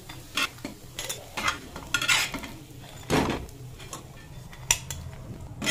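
Lentil paste fritters frying in a pan, with clattering stirs and scrapes of a utensil against cookware over a soft, steady background sizzle; sharp metallic knocks recur irregularly, one louder clunk near the middle.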